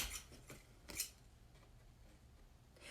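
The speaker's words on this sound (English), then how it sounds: "My scissors are way too big for this, but it's okay." Scissors that are oversized for the job snip around a paper bat wing for a Halloween craft, giving faint, close crisp cuts and rustles at a low level.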